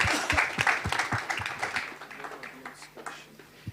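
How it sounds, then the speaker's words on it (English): Applause from a conference panel audience, distinct claps close by at first within a crowd of clapping that gradually thins and fades, with a last lone clap near the end. "Could you have a round of applause, please?"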